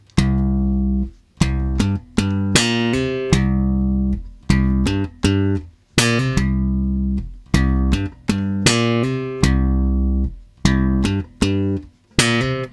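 Bass guitar plays a slow bassline of deep, sustained notes with occasional brighter slapped attacks, spaced evenly with brief gaps, close and loud.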